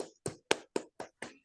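A few people in a classroom give a short, quiet round of six evenly spaced claps, close and soft, with no voices.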